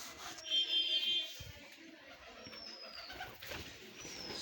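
Soft pigeon cooing and faint bird calls drift over a quiet, rustling background, close but gentle, with no talking.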